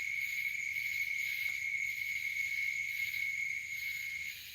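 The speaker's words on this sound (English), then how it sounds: "that's crickets and tree frogs in the background and cicadas" Crickets, tree frogs and cicadas at night form a steady, high, shrill chorus that stays even throughout and fades slightly at the end, with no voices.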